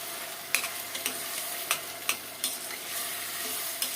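Tomatoes sautéing in a pan with peppers, onions and garlic for a green bean stew, giving a steady sizzle with several sharp scraping stirs of a utensil spaced through it. No voices.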